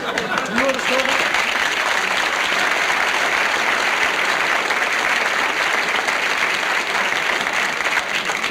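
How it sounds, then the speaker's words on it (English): A stand-up comedy audience at a comedian's show breaks into loud, sustained applause that fills the room, with a brief voice audible at the start. "About time you applauded something."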